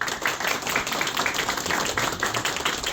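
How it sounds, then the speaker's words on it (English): An audience at a talk on a documentary game claps together in dense, continuous applause, with a crowd of hands patting steadily from start to finish. "So please, an applause for Pablo."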